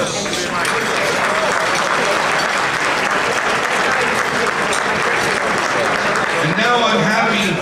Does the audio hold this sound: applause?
yes